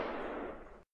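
Single cartoon gunshot sound effect from an animated comedy short: one loud, broad blast that holds for most of a second before cutting off abruptly into silence.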